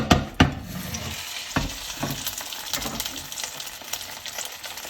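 A Spanish potato tortilla slides back into a pan of hot oil and fries with a close, crackling sizzle, punctuated by a couple of sharp knocks and scraping stirs.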